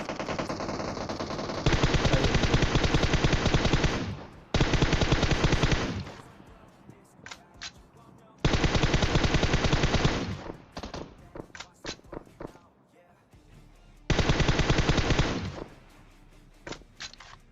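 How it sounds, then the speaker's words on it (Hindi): Automatic gunfire in the mobile battle royale game PUBG Mobile comes in several sustained, loud bursts of rapid shots separated by quieter gaps with scattered single cracks and thuds, with no talking. "जिस हिसाब से ये गोलीबारी चल रही है ना यहाँ पे"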